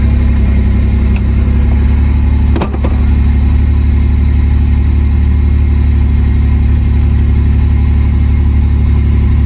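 Loud, close engine of a 1986 Pontiac Fiero GT idling steadily with a low rumble and fluctuating RPM, a brief bump around the middle suggesting a slight change in revs.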